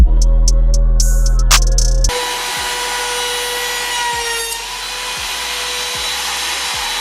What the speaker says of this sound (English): now we're going to go ahead and router the outer curve